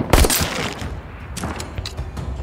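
A shotgun fires in the VR game Saints & Sinners: a loud, close blast opens the sequence, followed by a rapid string of sharper shots and thuds of combat.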